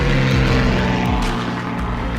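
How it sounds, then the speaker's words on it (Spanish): A flotilla of seven propeller-driven warplanes from Venezuela drones overhead, a loud, steady engine roar with a deep throbbing hum that persists unbroken throughout, no voices heard. "había llegado una flotilla de 7 aviones de guerra enviados por el déspota Marcos Pérez Jiménez"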